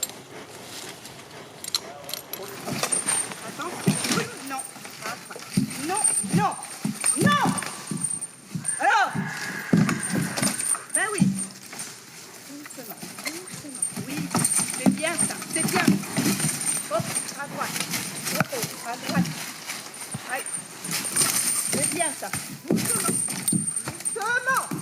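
Slow, uneven hoof clops of a horse walking on a hard surface, close by, with a person talking on and off and some jingling tack.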